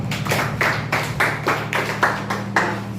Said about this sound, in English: Please clap for yourself.